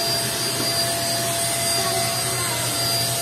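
A vacuum cleaner runs close by with a loud, steady roar and a constant whine, unbroken throughout, with no talk.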